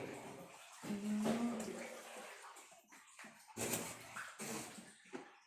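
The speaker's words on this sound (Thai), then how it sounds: "แล้วก็ด้านขวามือจะเป็นน้ำตกสายเพชรน้ำตกเล็กๆตัวนี้" A small waterfall inside a cave in Phatthalung splashes and trickles close by, uneven bursts of falling water with a faint voice under it.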